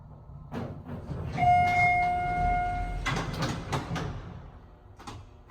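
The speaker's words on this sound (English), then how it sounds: "Door closing not working on this one either." In a downtown Kalamazoo parking garage, an elevator door slides and clunks with scattered knocks and rattles, a sustained whine and a couple of tonal beeps, heard close in an echoing space.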